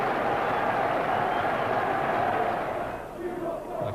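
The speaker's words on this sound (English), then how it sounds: "Crowd chanting, "We want 4,"" A football crowd at Barnsley versus Newcastle in 1991 chants loudly and steadily throughout the stadium, a dense roar of many voices that eases off slightly near the end.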